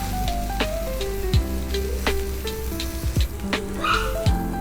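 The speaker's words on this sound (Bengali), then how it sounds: "অবশ্যই চালটা সুন্দর করে ভেজে নেবেন, কারণ চালটা আপনি যত সুন্দর করে ভাজবেন পোলাওটা বিরিয়ানিটা খেতে তত ভালো লাগবে।" Rice fries in a pan for a homestyle fish-head biryani, with a steady close sizzle broken by occasional clinks and scrapes of stirring.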